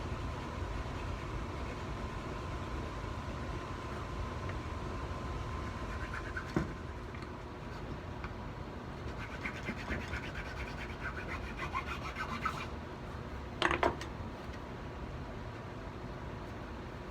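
A triangular tool scrapes grooves into the carved lines of a wooden shillelagh, a continuous close rasping scratch with a few sharper strokes and catches near the end, no voices.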